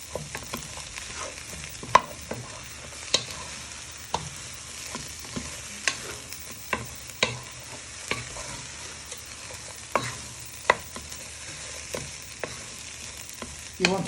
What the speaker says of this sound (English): So you're frying it with all your vegetables and meat.